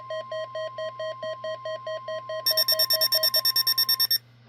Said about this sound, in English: This is a test of the NOAA Weather Radio warning alarm device and emergency alert system.